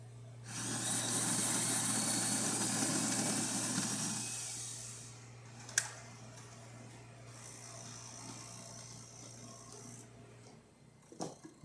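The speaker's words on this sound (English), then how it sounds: "let's go ahead and test it, make an espresso shot on it" A Jura E6 coffee machine, just serviced, brews an espresso shot: a loud whirring burst for about four seconds over a steady low pump hum, then quieter running with a sharp click before the hum stops.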